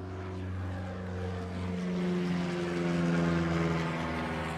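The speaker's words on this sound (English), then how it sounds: "An airplane just took off literally right next to us." A propeller plane drones nearby as it takes off beside a mini golf course, its engine tone rising and growing louder as it climbs away, a steady close hum with no voices.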